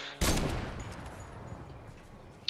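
A single sharp pistol shot in the Fortnite video game, loud and close, ringing out into a long decaying echo, with a faint click at the very end.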